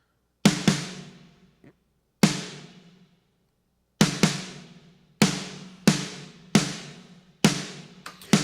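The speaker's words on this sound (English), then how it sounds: "So now I've doubled up on my snares," Doubled, layered snare drum hits from the EZ Drummer 3 software play alone as sharp, punchy single strikes with short decays. They start sparse and irregular, then fall into a steady rhythm of about seven hits.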